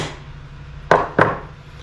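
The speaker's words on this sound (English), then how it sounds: "Another tap to secure." Two sharp taps, about a third of a second apart, seat the parts of a tree-branch pen. They land close and crisp against a quiet background.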